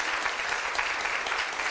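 A studio audience on a Turkish daytime television show applauds, a loud, sustained wash of clapping from many hands throughout.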